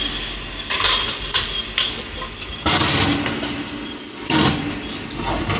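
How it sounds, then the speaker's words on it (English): A bread baking pan for milk bread turned inside a convection oven, several metallic clanks and scrapes of the pan and rack amid steady oven fan hum, close by. "We're going to rotate our pan since it's cooking on the other side"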